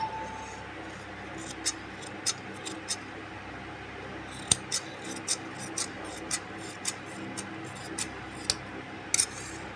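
Scissors snip churidar neck fabric in a quiet room, a dozen short, crisp cuts spaced roughly evenly with soft rustling between them.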